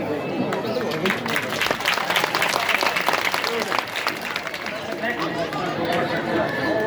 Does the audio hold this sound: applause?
yes